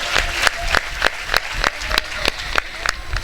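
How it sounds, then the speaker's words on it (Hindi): An audience at a village religious discourse claps loudly, a dense burst of applause with sharp rhythmic claps repeating steadily for several seconds. "एक बार जोरदार ताली हो जाती थी।"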